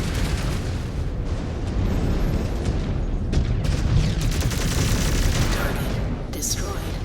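Missile explosions in the MechWarrior Clans video game, a dense, continuous barrage of booms and bursts amid mech combat, with voices talking over the din.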